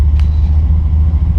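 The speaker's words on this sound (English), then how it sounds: "It's probably still going to roast the tires off because it really has too much power for this car" LSX-powered Triumph TR7 launching hard in first gear and spinning its tires, a loud, steady engine roar with deep low rumble filling the whole moment, close and continuous with no talk.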